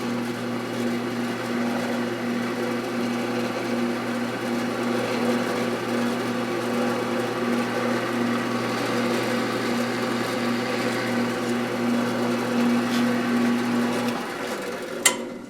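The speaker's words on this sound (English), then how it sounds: "Got the old drill press already set up." An old drill press runs steadily for about fourteen seconds with a constant motor hum and a faint grinding texture, then spins down near the end, with no talk over it.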